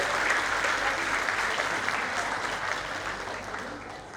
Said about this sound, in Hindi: सब अपने लिए एक बार ताली बजाएं, जो लोग हॉल में यहाँ बैठे हैं सबके स्वागत के लिए